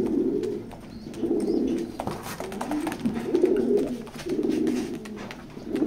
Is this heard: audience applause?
no